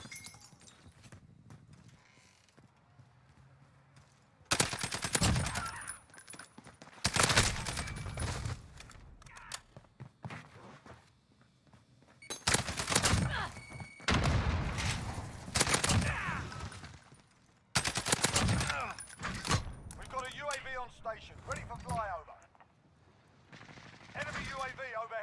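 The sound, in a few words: light machine gun (LMG) fire in a video game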